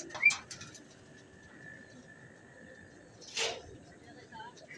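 A racing pigeon comes in to land at a club loft, with a short burst of wing flapping, a quiet whistling tone, and a second flutter later, all fairly faint against open-air background noise.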